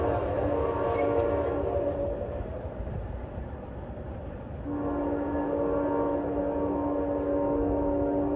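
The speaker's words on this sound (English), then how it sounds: "Amtrak Pennsylvanian en route from New York to Pittsburgh." The Amtrak Pennsylvanian, a passenger train running from New York to Pittsburgh on a country rail line, rolls past with a steady roar, a horn sounding partway through and holding, no voices.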